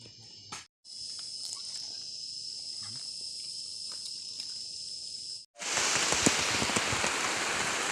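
Rain falls in a forest patrol area in early afternoon, a steady hiss of drops that briefly cuts out and then returns louder and denser, with a high insect-like whine during the quieter first part.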